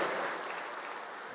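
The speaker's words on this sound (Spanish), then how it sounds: "Aplauso." Crowd of attendees at a 2019 Catholic men's conference clapping together, a dense, even roar of hands that starts strong and tapers slightly, heard alone without speech.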